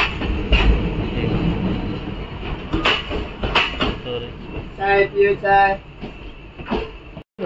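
A crowded Konkan Railway express train rumbles along at speed without slowing, with a steady low roar, rattling carriage noise and a few clanks, heard from inside the coach.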